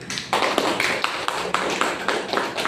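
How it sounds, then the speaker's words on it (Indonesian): Classroom applause during a microteaching lesson on office applications, with a small group clapping steadily and fairly loudly throughout, each clap crisp and distinct. "Oke, dan sekalian beri aplaus dulu"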